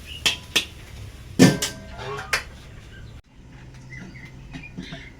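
A lid is set onto a pan of stir-fried bitter gourd with tau see, giving a sharp metallic clank amid a few lighter clinks of cookware and soft background sizzle.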